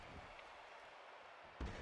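A single heavy slam-style thud from a wrestler's head being slammed down in WWE 2K14, landing near the end after a quiet stretch.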